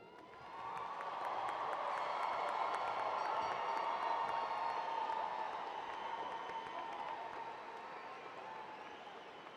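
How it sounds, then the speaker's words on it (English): A commencement crowd gives the graduates a sustained round of applause, dense clapping with scattered cheers and whoops that swells quickly, holds steady, then slowly tapers off. "Please join me in one last round of applause for our graduates."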